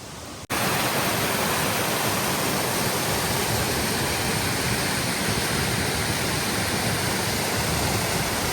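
A forest waterfall roars in a dense, continuous rush of falling water, loud and close, starting abruptly after a short quiet moment and holding steady to the end.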